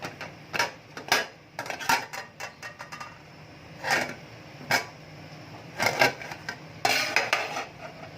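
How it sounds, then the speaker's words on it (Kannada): A knife slicing a lemon into round slices for garnish in a home kitchen, heard as a string of close, sharp clicks and taps on a cutting board, coming in irregular bursts over a quiet background hum, with no talking. "ಲಿಂಬು ರೌಂಡ್ ಆಗಿ ಕಟ್ ಮಾಡ್ತಾ ಇದ್ದೀನಿ"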